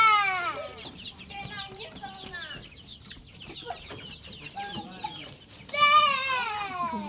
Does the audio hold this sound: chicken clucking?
yes